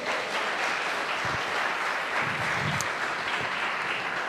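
Continuous congregational applause in a church service, a broad even wash of many hands clapping at moderate loudness with a few low thumps underneath.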